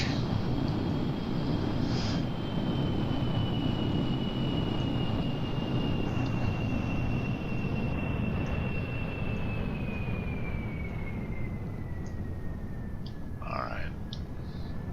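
A steady, loud aircraft engine drone in Kerbal Space Program, flying near mountains, with a thin whining tone that slowly falls in pitch as the throttle is pulled back, plus a few faint clicks.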